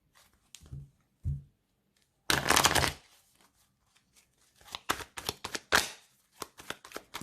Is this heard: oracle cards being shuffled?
yes